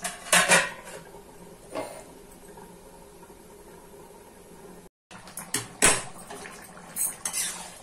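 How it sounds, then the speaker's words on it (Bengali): A lid set onto a cooking pot of boiling potato curry: sharp metallic clatters near the start and again later, separated by a quiet stretch of low kitchen noise and a brief dropout. "এবার ঢাকা দিয়ে আমি এটা সিদ্ধ করতে দেবো"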